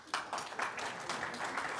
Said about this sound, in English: my product manager clapping first